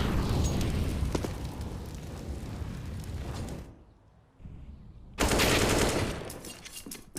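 FAMAS rifle fire in a CS:GO match from ESL Pro League highlights: dense rattling bursts and blasts, then a brief lull, then another loud volley.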